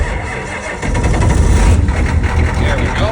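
A vehicle engine cold-starting in freezing, icy weather: a short cranking whir, then the engine catches and settles into a rough, loud idle that runs steadily to the end.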